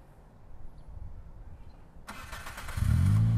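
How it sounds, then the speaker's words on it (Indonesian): A Toyota Vios car with a keyless start-stop engine starts remotely from the key: near-silence gives way to a sudden cranking burst, then the engine catches into a loud, steady idle rumble, close by. "Bisa dihidupkan dari luar seperti ini nih."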